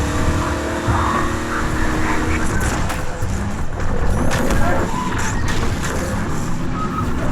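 Vehicle engine in Half-Life 2: Episode Two, a steady loud motor drone with rumbling low end and road noise throughout, no voices.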